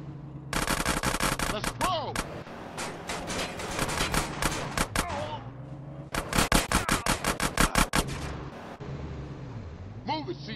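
Rapid automatic gunfire in bursts rattles out during a drive-by in GTA San Andreas Definitive Edition, loud and close, with engine revving and tires between volleys and someone shouting under the shots.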